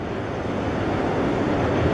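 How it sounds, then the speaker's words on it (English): Steady rumbling roar of a freight train of well cars rolling across the Harahan Bridge, a continuous broadband clatter with no pauses, moderately loud. "Now there's well cars passing over."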